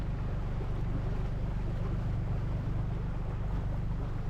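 Sailing catamaran motoring under engine near Ithaca Island, with a steady low engine drone and hum beneath rushing wind and water noise throughout.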